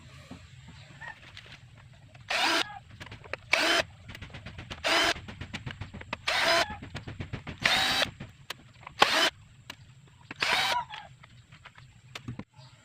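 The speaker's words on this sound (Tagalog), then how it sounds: "pahiga lang natin para matanggal natin yung mga tornilyo" A power drill or driver backs screws out of a flat-screen TV in about eight short, loud whirring bursts with quiet pauses between them, close by.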